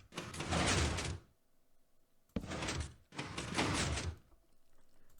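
Blocky wooden door in Minecraft opening and closing, three loud close thunks, each with a short swishing tail, separated by brief silences.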